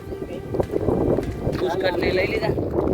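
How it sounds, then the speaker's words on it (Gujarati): Wind gusting outdoors in a forest, a steady rushing roar with buffeting against the microphone, continuing beneath people talking throughout. "અત્યારે તો પવન એવો છે"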